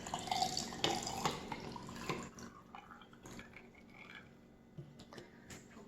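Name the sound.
water poured into a glass full of ice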